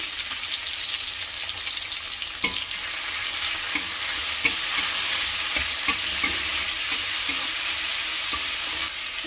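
Chopped tomato and salt fry in hot mustard oil for an egg ghugni, giving a constant hissing sizzle with light spoon taps and stirring clicks scattered throughout.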